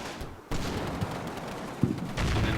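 Gunfire in the WWII strategy game Combat Mission: Battle for Normandy, a dense, continuous crackle of rifle and machine-gun fire with a few sharper reports standing out against the rattle.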